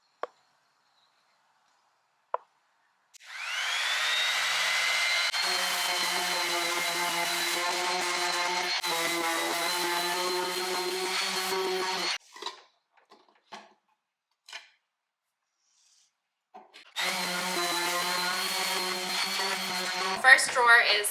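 An electric sander works over a wooden dresser drawer with coarse 80-grit paper, a steady loud whine running for about nine seconds, then brief bursts, then resuming; no talk over it.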